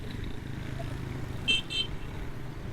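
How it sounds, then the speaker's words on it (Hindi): Two short car horn toots, the second slightly longer, sound over a steady rumble of nearby street traffic in Saddar Town. "बस बिला वजह हॉर्न बजा रहा है।"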